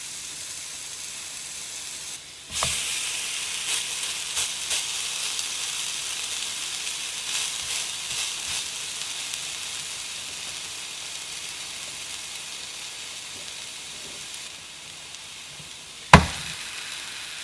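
Thick, large steak-like patties fry in a hot pan. A loud, steady sizzle starts a couple of seconds in and holds throughout, and a sharp clatter sounds near the end.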